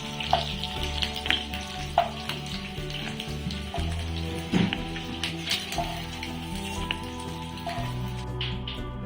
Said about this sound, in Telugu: ఇప్పుడు అదే ప్యాన్లో కొంచెం ఆయిల్ వేసుకొని ఆనియన్ పేస్ట్ ముందుగా వేయించుకుంటున్నానండి.